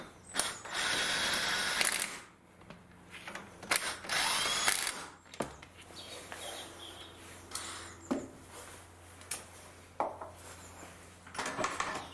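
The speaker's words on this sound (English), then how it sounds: "So just tightening this with the power bar." Brake caliper bolts on a 2008–2012 Nissan Note are tightened with a breaker bar, producing bursts of close ratcheting clicks and metallic clanks separated by quieter pauses, with no talking.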